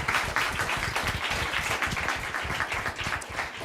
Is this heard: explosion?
no